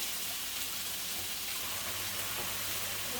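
Food lightly frying in a pan while softening, made for a low-carb meatloaf: a quiet, even sizzle and crackle that holds steady throughout with no talking.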